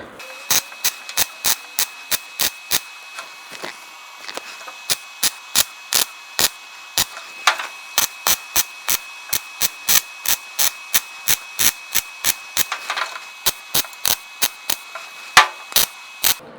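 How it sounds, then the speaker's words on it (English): Thin S10 pickup bedside sheet metal being tack and stitch welded, giving a long run of short, sharp crackling bursts in a fairly regular rhythm against near silence, fairly close and with no voices. "we laid some stitch welds in there"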